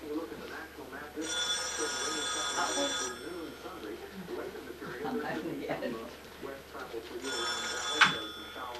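An old telephone bell rings twice, separated by a pause, under steady conversation and laughter in a home with family members present.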